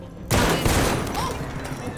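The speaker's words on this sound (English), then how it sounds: "Oh, they just shot someone." A gunshot in the video game Detroit: Become Human, one sudden loud crack followed by a rumbling echo that slowly decays.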